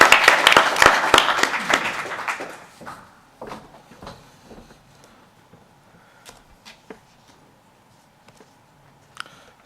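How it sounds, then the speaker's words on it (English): A conference audience at a BAUS 2016 urology trainee Dragons Den session claps loudly for a couple of seconds, then the applause thins into scattered claps and fades out. "So round of applause for him."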